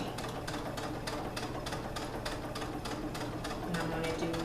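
A sewing machine stitches recycled leggings in a quick, even rhythm of needle strokes, steady and fairly close, with a faint voice under it.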